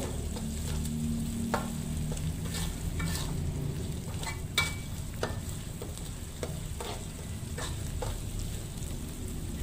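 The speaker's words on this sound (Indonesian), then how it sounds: "Sekarang saya tambahkan gula merahnya. Kemudian saya aduk-aduk dulu agar gula merahnya ini larut" Tempeh and anchovies fry in a pan as palm sugar is stirred in, with a continuous sizzle and repeated scraping strokes of a spatula, close and steady.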